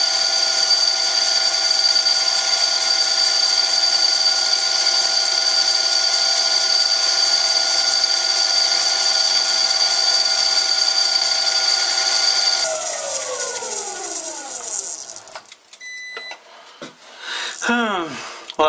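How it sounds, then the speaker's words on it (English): A lathe bores out the taper of a cheap Chinese collet chuck, producing a loud, steady high-pitched whine and ringing cut that winds down near the end, followed by brief clinks and tool noises. "So let's bore out the collet chuck taper again."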